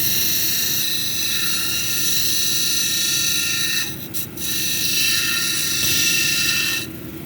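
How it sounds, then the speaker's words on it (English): A zebra calcite stone is ground along its top edge into a cabochon on a grinding wheel, a loud continuous whirring rasp that holds steady, with two brief dips near the end. "I'll take the edge on the top edge and I'll grind that down, working my way towards the center."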